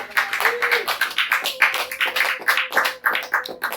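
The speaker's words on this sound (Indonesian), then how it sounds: "Tepuk tangan dulu dong." A studio audience claps for the hosts at the opening of an Indonesian talk show, a steady run of claps over about four seconds, fairly close and distinct.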